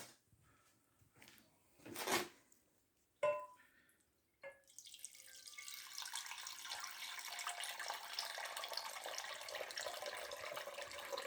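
Liquid beeswax poured from a ladle into foundation molds greased with soapy solution: a few drips and taps, then a steady, close, continuous pouring stream that runs to the end.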